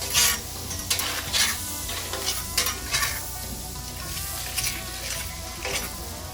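Food frying in oil and butter on a griddle: a busy, continuous sizzle with bursts of crackling and spattering pops, close and fairly loud.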